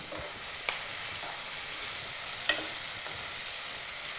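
Stuffed vegetables stir-fried in a pan give a steady, fairly quiet sizzle, broken by a couple of sharp spatula clicks against the pan. No one speaks.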